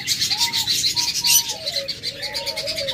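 A pair of lutino cockatiels calls with clear, repeated whistling notes, close and fairly loud, against a busy background of other chirping birds.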